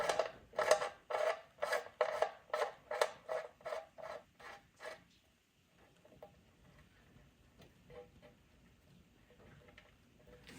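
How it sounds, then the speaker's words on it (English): An oil drain plug being threaded back in by tool, giving a quick, even series of about a dozen rasping ratchet-like strokes, followed by faint, sparse metallic fiddling and near silence. "And thread our plug back in"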